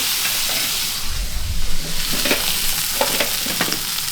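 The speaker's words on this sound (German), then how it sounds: "das Fleisch sollte auf einer hohen Temperatur angebraten werden, es soll nicht kochen" Meat sears loudly in a pan at high temperature with a constant crackling hiss, plus occasional stirring and scraping sounds; no voices.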